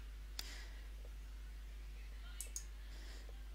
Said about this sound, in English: any other students who are not Summer, I'm going to simply close off their access to the page by clicking on the X next to their name